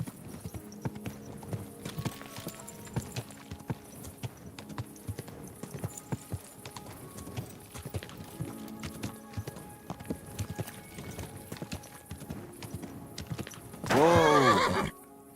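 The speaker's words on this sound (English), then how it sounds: "Easy, good horse." A horse in Kingdom Come Deliverance II clip-clops along with steady hoof beats for a long stretch, then lets out a loud, close whinny near the end.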